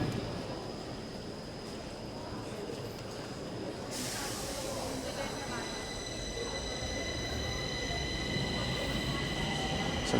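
A subway train rumbles and hisses steadily at T-Centralen station, with a bright tonal whine joining partway through and continuing to the end.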